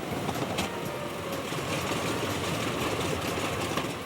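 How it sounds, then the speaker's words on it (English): The engine of a Grumman F6F Hellcat fighter runs during an engine check, a loud, continuous rough drone with a dense, rumbling texture and no voices over it. "The sound an engine makes can tell an experienced pilot or mechanic just about as much as any gauge."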